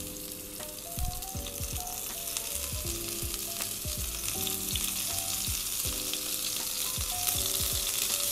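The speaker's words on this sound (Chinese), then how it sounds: "煎到定型就可以拿起来了。" Pork meatballs of about 30 to 40 grams sear in an oiled pan, giving a continuous soft sizzle with occasional utensil taps and scrapes, close and steady with no talking.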